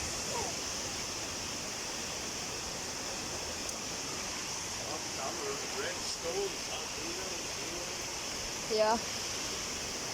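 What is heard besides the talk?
clear stream water flowing in Absam, Tirol, Austria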